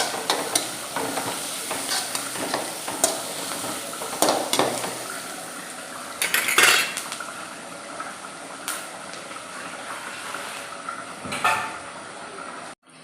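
Curry leaves dropped into onions frying in a pan for a homestyle Kerala pork pepper roast, giving a steady crackling sizzle with occasional louder bursts and stirring scrapes throughout.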